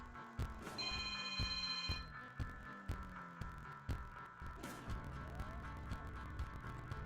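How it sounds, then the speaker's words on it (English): A telephone bell rings in the background for about a second, faint and high, beneath a busy game soundscape of rhythmic thumps and hum. "Sorry about the phone ringing in the background."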